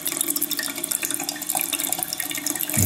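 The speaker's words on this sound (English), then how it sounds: "And here is the shampoo under hot water." Hot tap water runs steadily over shampoo, giving a continuous, close splashing hiss with small drips and gurgles throughout and no talk.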